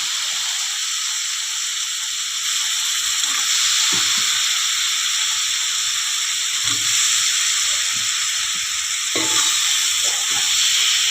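Chopped sponge gourd (galka) sizzles steadily in hot spiced oil for a Gujarati curry, a loud continuous frying hiss with occasional stirring clicks and pops, close up and without talk.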